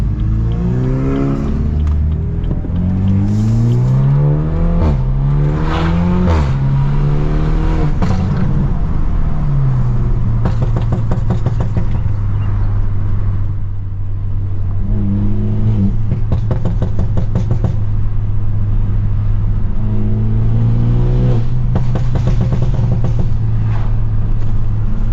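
A straight-piped stage 2+ BMW F30 is driven hard, its loud exhaust rising and falling through repeated full-throttle pulls and gear changes, recorded up close from inside the car with no talking.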